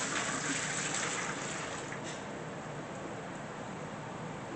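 Apple cider vinegar, six cups for a pickle brine, pours in a faint, steady liquid hiss that stays even and uninterrupted throughout.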